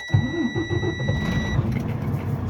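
A truck engine cranks and catches during a CDL pre-trip safe start, a loud close rumble that settles into a steady diesel idle while a thin electronic beep sounds for the first second and a half.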